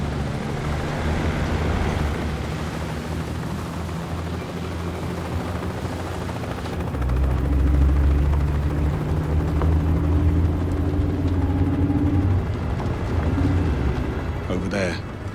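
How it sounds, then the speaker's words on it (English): A helicopter approaches in the video game 007 First Light, a deep rotor rumble that swells louder midway under a steady low drone, while characters talk over it. "heads up. Bavma's heli is inbound"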